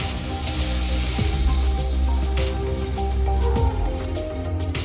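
A steady sizzle and bubbling of a winter fish curry with potato and cauliflower in a pan as water is added, loud and continuous with a few sharp clinks, no talking.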